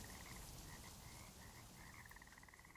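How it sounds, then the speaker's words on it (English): Frogs croak continuously in Minecraft, a steady layered chorus of repeated calls over a dense ambient background, with no talking. "Oh, I hear frogs."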